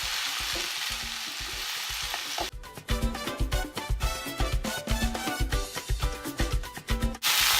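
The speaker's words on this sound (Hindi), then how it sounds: "अब डालेंगे गोभी, इसे हम अच्छे से मिला लेंगे।" Cauliflower is stirred and tossed in a hot oiled pan for gobi aloo sabji, giving steady sizzling frying with repeated scraping and clattering strokes of a spoon against the pan.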